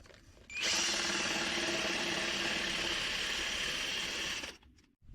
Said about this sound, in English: why is she only using the little battery drill?